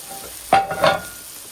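Shredded chicken browning in coconut oil in a pan, with two short bursts of sizzling and stirring heard up close and no talk.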